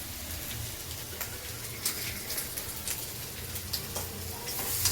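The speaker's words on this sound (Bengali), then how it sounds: "আলুটা ভেজে আগে" Potatoes fry in hot oil with a continuous close sizzling crackle and scattered small pops, steady in level, with no talking.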